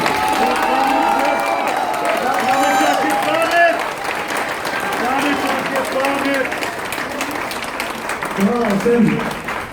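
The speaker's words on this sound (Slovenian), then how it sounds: "Prosim za aplavz" Applause from a crowd at a rally in Ljubljana for grandparents' rights, sustained for nearly ten seconds with cheering and voices shouting over the clapping.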